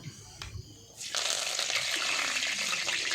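Curry leaves drop into hot oil in a pan and start a loud, steady sizzle that begins about a second in and keeps going, with a faint voice earlier.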